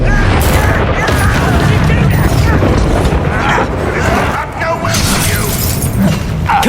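Bombarda blast spell in the Hogwarts Legacy video game: loud, dense booming explosions and shattering debris in quick succession amid continuous battle noise, with a voice speaking over it.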